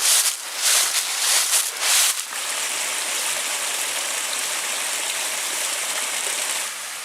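The distant Munising Falls at Pictured Rocks sends a steady, dense rush of falling water, fairly loud and unbroken, with a few brief rustling sounds at the start and no talk.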